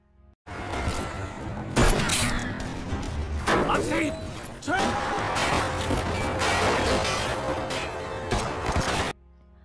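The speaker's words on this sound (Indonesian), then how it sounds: "aksi tembak-tembakan tak terhindarkan lagi" Dense, continuous clatter of gunfire and crashing effects from a shootout in a Hong Kong crime film runs for most of the stretch, loud and busy, with voices shouting over the chaos.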